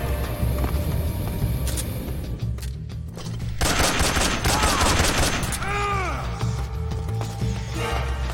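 Repeated gunfire in Metal Gear Solid 3: Snake Eater, a sustained burst of fast shots in the middle with scattered mechanical clicks and game sounds around it, loud and close, with little talk.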